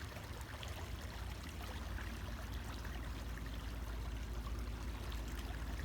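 A river flows in a steady, low-level wash of rushing and trickling water that stays constant throughout with no voices.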